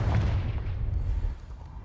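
A Confringo spell explosion in Hogwarts Legacy, one heavy booming blast up close that rumbles and fades over under two seconds.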